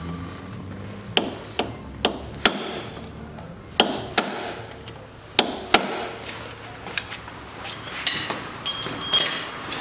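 Sharp metallic taps and clinks, about a dozen irregular knocks, as a cotter pin is fitted and bent on the wheel hub of a CFMOTO CF625 X6 EFI ATV, close and fairly loud over a low hum.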